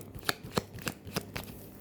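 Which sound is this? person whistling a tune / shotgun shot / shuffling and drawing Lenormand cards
shuffling and drawing Lenormand cards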